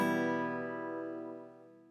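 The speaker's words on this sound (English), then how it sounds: "this is what it'll sound like when you just take your pick, go from the top string" A guitar chord strummed with a pick across the strings from the top string down rings out as one sustained chord that slowly decays, heard alone and fairly quiet.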